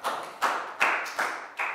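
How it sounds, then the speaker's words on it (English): Applause in a primary school classroom, with five bursts of clapping arriving about every 0.4 seconds. Each burst starts sharply and tails off quickly, the sound close and moderately loud with no talking over it. "Big round of applause."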